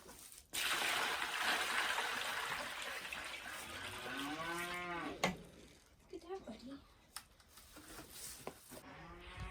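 A cow lets out a long, wavering moo in the middle, followed by shorter grunts, over running water and a nearby voice on a farm.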